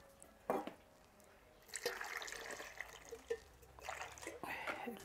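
Water poured into a blended chile sauce with a bit of salt for chicharrón en salsa, a few short splashy bursts of pouring and trickling, fairly faint and close, with quiet gaps between them.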